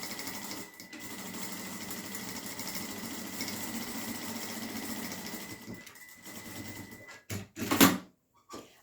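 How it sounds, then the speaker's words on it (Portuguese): A sewing machine runs a steady decorative seam on a crossbody bag pocket, a continuous close whir for about seven seconds before halting, followed by a few brief clicks and handling knocks. "eu vou fazer uma costurinha decorativa mesmo, tamanho de um pé de máquina"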